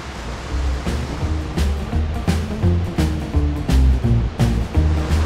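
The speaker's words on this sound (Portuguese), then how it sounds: "Bem bonito aqui essa parte do riacho aqui" A stream flows just below the Cachoeira da Fonte waterfall in Faxinal, Paraná. The water rushes and splashes as a dense, steady roar up close, with some rhythmic thumps mixed in and no talking.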